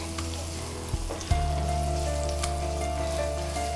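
A large onion sautés in a pan with a steady, close sizzle, a couple of sharp clinks or stirring knocks near the start, then an even hiss carrying on throughout.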